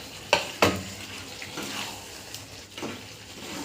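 Bhetki fish bones and a few belly pieces dropped into hot spiced oil with fried potato, beans and eggplant, giving a couple of sharp sizzling bursts followed by softer crackling and stirring.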